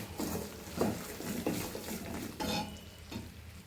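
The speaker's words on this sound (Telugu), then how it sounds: "సో దీన్ని మొత్తం కలర్ చేంజ్ అయ్యేంత వరకు కలుపుతూనే ఉండాలి" Sugar melting into caramel in a pan, stirred in short scraping strokes with a soft sizzle, close and moderately quiet.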